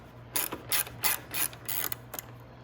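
A ratchet spins in short, fast clicking bursts, about seven quick runs close up and fairly quiet, undoing the bolts on the fairing of a Venom Motorsports eVader electric bike.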